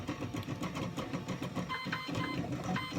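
3D printer running while printing ASA filament, a close, busy whir of buzzing stepper motors with rapid rhythmic pulses and chirps as the print head moves.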